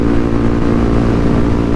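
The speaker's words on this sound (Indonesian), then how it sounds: "knalpot gua kencang banget suaranya" Loud, steady exhaust drone of a Yamaha WR155 motorcycle idling or running close by, a continuous throaty rumble with no talk over it.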